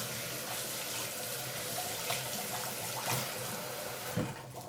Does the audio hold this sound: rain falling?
no